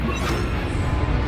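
Expelliarmus disarming spell cast in the Hogwarts Legacy video game: a dense, loud crashing burst of magical impact that fills the whole moment, steady and forceful with no voice over it.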